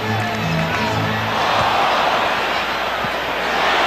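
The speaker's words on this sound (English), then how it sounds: "crowd reacting" Basketball arena crowd at a 1992 Bulls–Knicks Game 7 playoff swelling into a loud, dense roar of cheering, with a commentator's voice briefly audible at the start.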